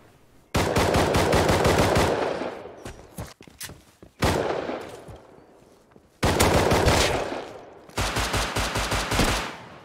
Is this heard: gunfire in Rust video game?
yes